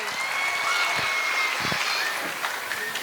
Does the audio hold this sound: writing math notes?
no